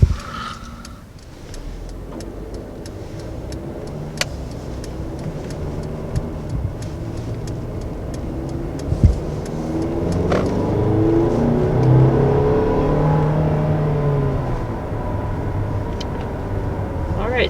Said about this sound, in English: that was our basically first acceleration here in the 2020 GLB